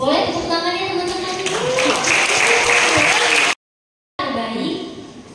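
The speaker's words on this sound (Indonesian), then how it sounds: "Boleh tepuk tangannya teman-teman?" Audience at an augmented reality competition winners' announcement at Banyan Tree Bintan breaks into loud, sustained clapping with voices mixed in, cutting out briefly before resuming.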